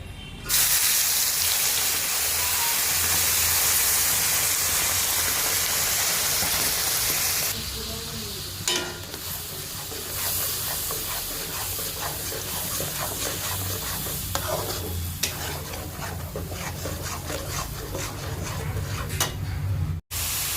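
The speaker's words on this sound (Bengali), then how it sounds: "এবার এর মধ্যে দিয়ে দেব বেটে রাখা পেঁয়াজটা।" Onion paste goes into melted butter with a bay leaf, first a loud hissing sizzle, then a calmer frying crackle broken by stirring scrapes, close up throughout.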